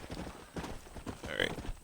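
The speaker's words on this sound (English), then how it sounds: "the other horses start to run away." Several horses running off in Red Dead Redemption, with hooves clattering through a short burst and a brief whinny near the end.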